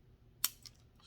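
Snips cut through a soldered component lead on a lighting board assembly, giving one sharp, close click followed by a fainter second tick, with no voices in a quiet room.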